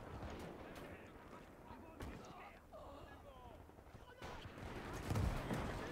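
Faint, distant mortar blasts and battlefield rumble from the WWII game Gates of Hell during a 1940 river crossing at Dinant, irregular thuds under a low ambient wash.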